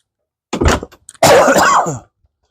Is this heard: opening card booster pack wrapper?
no